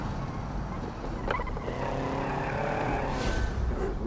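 A turbocharged car engine revs and pulls under throttle in BeamNG.drive, a steady droning tone with rising harmonics through most of the stretch, loud and continuous, with a brief sharp burst early on.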